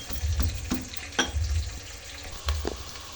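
Ingredients for ugrani frying in a pan, a steady soft sizzle broken by a few stirring knocks and scrapes.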